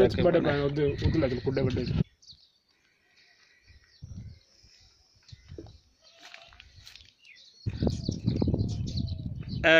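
Soft, low pigeon cooing and faint bird calls at an old mud house in Bahawalnagar, Pakistan, in a quiet gap between stretches of people talking nearby.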